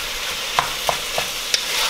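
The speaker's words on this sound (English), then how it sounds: "we're gonna brown this just for a minute before I add the garlic and onions" Ground meat browning in a pan for meat lasagna, a soft steady sizzle with a few sharp clicks of a utensil stirring and scraping the pan, close and moderately loud with no talk.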